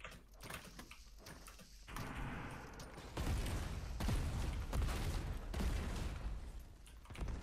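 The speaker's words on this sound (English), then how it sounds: "I'm gonna lob 6 nades all at once" Several grenades going off in Fortnite gameplay, a dense run of loud overlapping blasts and crackling bursts that builds in the middle and tails off, with no voices over it.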